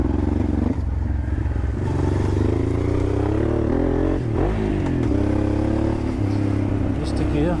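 An old Honda Transalp engine drones steadily on a dirt shortcut, its pitch dipping and surging around a missed gear change, with brief clattering under continuous loud riding noise.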